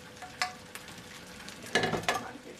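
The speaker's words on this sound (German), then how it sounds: "Bratkartoffeln und Brenter kommen in eine Pfanne." Fried potatoes and Brenter, a rustic Allgäu dish, sizzling in a pan, a continuous close hiss broken by a few sharp scrapes and stirs of a utensil.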